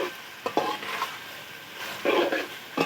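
A spoon stirs creamy malai onion curry in a pan, freshly seasoned with black pepper, with bursts of scraping and soft sizzling at close range that come and go in short strokes, with a quieter stretch between them and no talking.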